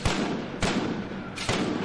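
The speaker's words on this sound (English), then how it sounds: "Give them gunshot." Gunshots fired in an animated Jamaican street scene: three sharp, loud cracks spaced irregularly, each with a brief echoing tail, standing alone over low background noise.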